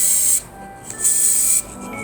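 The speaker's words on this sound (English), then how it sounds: "we just want to just get the edge of the spray." A spray paint can sprays pampas grass for a craft from about 30 centimetres away. Two short, loud, close hissing bursts are separated by a brief pause.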